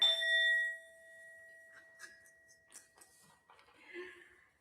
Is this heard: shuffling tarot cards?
no